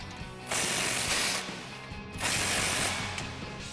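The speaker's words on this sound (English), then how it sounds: "And now we can snug down our clamp a little bit loose with our 15 millimeter" Two quick bursts of ratcheting from a ratchet with a 15 mm socket tightening an exhaust clamp on a 2014-2022 RAM 2500 6.4L, close and clicking, separated by a short pause.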